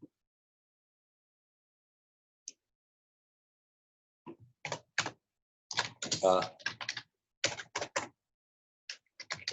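Someone types on a computer keyboard nearby. After a near-silent start, irregular clusters of crisp key clicks and taps follow, with brief pauses between bursts.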